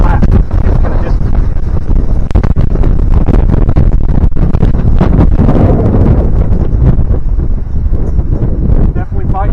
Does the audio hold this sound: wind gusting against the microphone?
yes